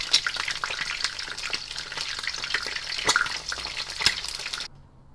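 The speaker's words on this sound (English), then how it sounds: "And then I have my oil already ready for that fried egg." An egg frying in hot oil in a pan, with a close, busy crackling sizzle and sharp pops throughout that cut off abruptly near the end, with no voices.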